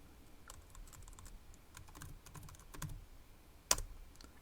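Keys tap on a computer keyboard in short irregular clusters, faint and close, with one sharper keystroke near the end.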